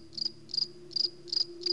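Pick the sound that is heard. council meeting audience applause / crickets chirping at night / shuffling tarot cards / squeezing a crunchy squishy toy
crickets chirping at night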